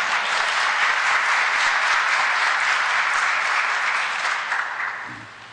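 Dense, loud audience applause fills a hall during a diplomatic address by the U.S. Secretary of State to the Organization of American States, holding steady for several seconds before beginning to taper.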